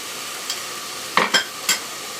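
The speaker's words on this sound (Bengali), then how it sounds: "তেল দিয়ে ভালোভাবে নেড়ে মিক্সড করে দিব" Beef is stirred with turmeric, salt and ginger-garlic paste in hot oil, with a quiet sizzle under a few brief, sharp scraping strokes of a spoon in the pan.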